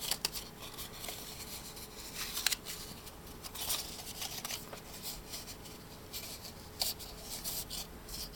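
Paper being carefully folded by hand for a punched card, soft close rustles, creases and rubbing in uneven bursts with a few sharper crinkles.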